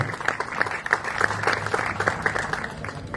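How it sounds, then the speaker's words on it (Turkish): A hall audience applauds as a school-aid project's vice president comes on stage, a fairly quiet, scattered patter of many hands clapping throughout. "Başkan Yardımcısı Özlem Bulutoğlu alkışlarınızla sahneye geliyor."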